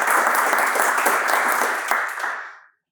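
Audience applause at a Houdini user group meetup in Cologne, a dense run of clapping that holds steady and then tapers off and stops near the end.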